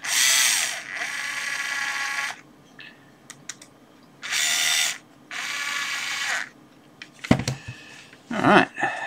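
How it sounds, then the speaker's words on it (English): A small electric screwdriver tightens screw terminals on a Maker Faire badge, running in several whirring bursts separated by pauses, with close clicks and small handling clatter between them. "So we'll just screw the terminals in."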